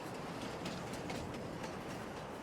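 A rusty red custom-skinned freight train in Farming Simulator 22 rolls steadily past with continuous rumbling and faint rhythmic clickety-clack of wheels, fairly quiet and alone without talk.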